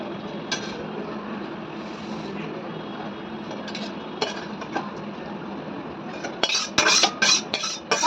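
Finished pickle is poured out of a heavy kadai, giving a continuous rough scraping wash, then a cluster of sharp metallic clinks and knocks near the end.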